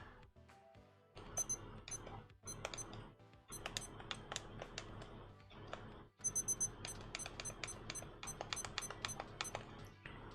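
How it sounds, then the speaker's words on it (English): A writing timer beeps in rapid repeated bursts of high electronic tones, several clusters of quick beeps over a steady background, fairly close and clear. "Beep, beep, beep, beep, beep. Okay. There goes the timer."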